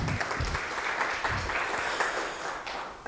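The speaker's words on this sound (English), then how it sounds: "Please give her a round of applause." Audience applause at a research and innovation lecture event, a continuous dense patter of many hands clapping at moderate distance, steady throughout.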